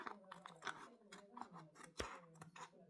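Scissors snip through a paper colouring sheet in a quick series of close crisp cuts, several per second, with a quiet voice faintly underneath.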